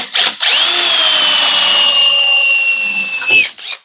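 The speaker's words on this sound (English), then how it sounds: "just give them a little tap-a-roo with the drill" A power drill bores a hole for a trim clip stud on a 1968–72 A-body car, one steady high-pitched whine lasting about three seconds, loud and close, with short pauses before and after.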